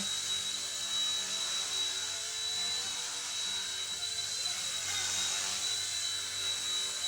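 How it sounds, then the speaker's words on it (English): A Goolrc C129 mini six-axis RC helicopter whirs steadily nearby, a high, constant motor whine with a thin buzzing tone that swells slightly midway. "So yeah, pretty easy little flying helicopter"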